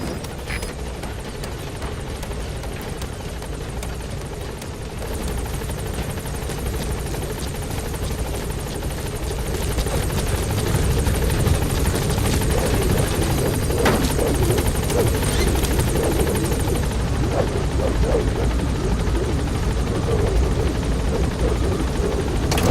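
In a video game, the Pequod helicopter arrives at a landing zone and hovers there, its loud steady rotor thrum filling the whole stretch and swelling slightly midway as it settles.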